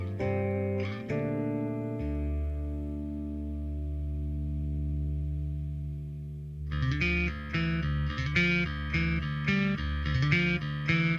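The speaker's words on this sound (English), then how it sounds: "Those guitar tones by Adam," Electric guitar from Tool's song Schism, played by Adam Jones: sustained distorted, effects-laden notes ring out and decay, then a rhythmic, chugging riff of repeated picked notes kicks in loudly.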